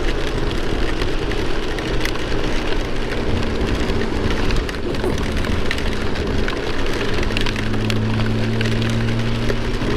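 Dense crackling patter of rain hitting a surface, continuous and fairly loud, with a low engine hum underneath.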